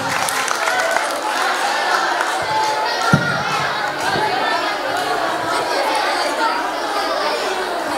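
An audience at a student council (OSIM) presidential and vice-presidential candidate debate at a madrasah applauds candidate pair 02. The clapping and crowd chatter form a steady, dense wash that holds at an even level throughout.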